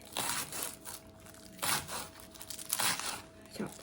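A knife chops the ends off a fresh pineapple while sweet and sour pineapple chicken is being prepared, giving three sharp, crunchy cuts spaced about a second apart, close and fairly loud.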